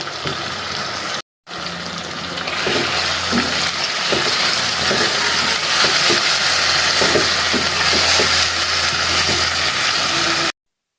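Chicken frying in a pan with chopped onion and ginger-garlic paste gives a steady, close broadband sizzle, with occasional clicks and scrapes from stirring and no talk.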